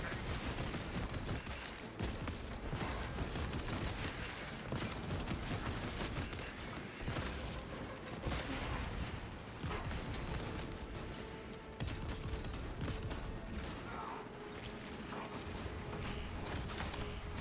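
Server gun firing in Space Marine 2, a dense, continuous fusillade of rapid automatic shots, loud and close, with brief dips in the barrage and no talk.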